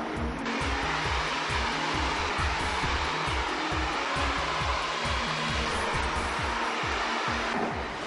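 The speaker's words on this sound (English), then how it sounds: "we've actually now made it all nice and smooth from blow drying the product in" Hair dryer running steadily on low heat while blow-drying keratin treatment product into hair, a loud continuous close whir with a low rhythmic flutter throughout, no talking.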